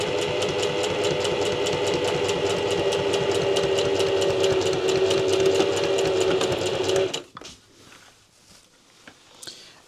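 A sewing machine runs steadily for about seven seconds, top stitching a quilted pencil case with a fast, even mechanical rhythm, then stops and leaves quiet handling noises.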